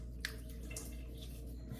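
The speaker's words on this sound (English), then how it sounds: "Just gonna put some warm water on my face here." Warm water splashed onto a face by hand before a wet shave: faint, close drips and wet squishing sounds over a low steady hum.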